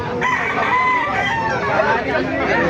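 A loud, close rooster crow rings out over a noisy market background with other fowl sounds, at a market selling gamefowl.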